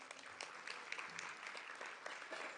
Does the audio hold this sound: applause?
yes